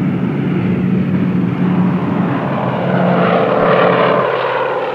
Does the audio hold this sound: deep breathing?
no